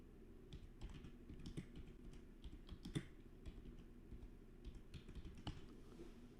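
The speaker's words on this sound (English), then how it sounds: "Let's type something." Fast, uneven clatter of typing on a computer keyboard, close and steady for several seconds with dense bursts of key clicks over a low background rumble, no one speaking.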